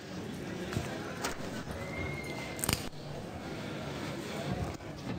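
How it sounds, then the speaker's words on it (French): A horse neighs loudly at a horse sale auction, a short whinny rising over steady crowd murmur and hoof clip-clop, with a sharp burst in the middle. "Joli poulain, pourtant, ce Custom Crowland."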